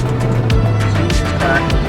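A manual V10 BMW M5 E60 fitted with a very loud F1-style exhaust rumbles nearby, its low engine drone broken by several sharp pops and crackles spaced irregularly through the sound.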